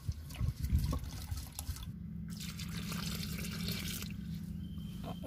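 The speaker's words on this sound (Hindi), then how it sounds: "मक्खन को अच्छे से धो लेते हैं।" Homemade butter washed by hand in water in a village kitchen, with sloshing and dripping up close followed by a steady stream of running water.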